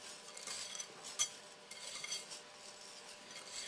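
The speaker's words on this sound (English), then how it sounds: "And we're going to whisk this together." Ingredients being whisked together in a bowl, quiet rapid clinks and scrapes of the whisk against the sides with a few sharper taps.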